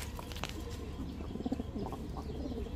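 A male Rajshahi Giribaz pigeon gives a few soft, low coos close by, faint against steady background noise and rumble, with no talking.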